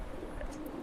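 Large adult pigeons in a breeding loft give soft, low cooing close by, a steady throaty murmur running through the short moment with faint higher chirps above.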